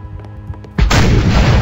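A loud, booming gunshot in a Roblox game bursts out after a moment of faint, quieter game sounds, followed by a dense, rumbling tail.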